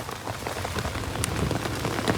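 Heavy rain pouring steadily onto a surface nearby in Weyangoda, Sri Lanka, a dense constant patter with occasional louder drops.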